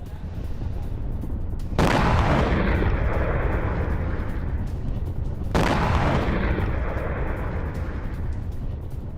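Two heavy, loud blasts of bombardment and drone strikes in Voronezh, Russia, during the Russia–Ukraine war, each a sudden broadband boom followed by a long rumbling roar, spaced a few seconds apart with no talk.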